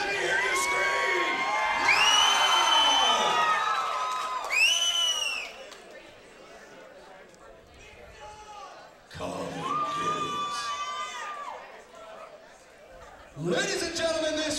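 A packed crowd at an amateur title fight night screams, whoops and cheers in loud surging waves that dip and swell, with shrill individual shouts rising above the roar.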